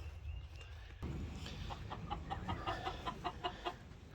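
Hens clucking in a chicken pen, a run of short repeated clucks and murmurs after a faint start, moderately close and without speech.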